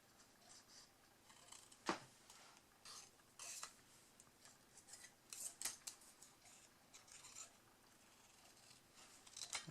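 Scissors snip through paper while a shabby-style greeting card is made, with a series of quiet, irregular cuts and one sharper snip near the start. There is no talking.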